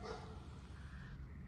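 A dog barks a few times in the distance, faint against steady outdoor background noise.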